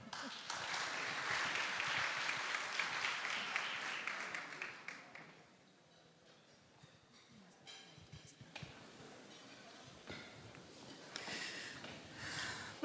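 An audience at a launch event in the Palace of Parliament claps loudly for a few seconds, then the applause fades into quieter scattered claps and room noise before a brief renewed patter.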